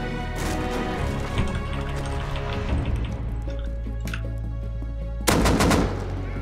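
Rapid gunfire in the survival video game Rust, with dense bursts of automatic shots rattling continuously, ending in a loud, sharp final volley near the close.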